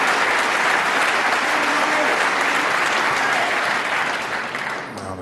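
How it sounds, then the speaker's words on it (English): Sustained, dense applause from a snooker crowd at the UK Championship final, a full hall clapping loudly and steadily before tailing off slightly at the end. "Well, a terrific round of applause"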